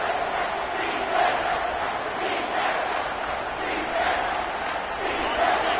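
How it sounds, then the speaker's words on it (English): A stadium crowd roars steadily at an American football game in the 2K25 video game, a loud sustained din with swelling waves of cheering that carries throughout. "this crowd is tearing the lid off this place"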